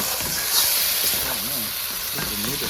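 Guyanese chicken curry seasoned with black pepper cooks in a pot, giving a steady close hiss and sizzle of steam with faint stirring scrapes throughout.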